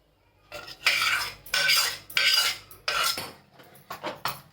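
A spoon scrapes and mixes coarse wheat-flour churma with hot melted jaggery in a bowl for churma laddu, giving four or five loud, bright scraping strokes in a steady rhythm, close up with no talking.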